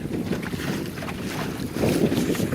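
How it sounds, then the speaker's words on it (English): Strong wind roars steadily across the microphone aboard a Welsford Navigator sailboat out on the water in high wind, a dense, continuous rushing noise that swells a little toward the end, with nobody talking. "I can relax even when it's blowing pretty hard out here."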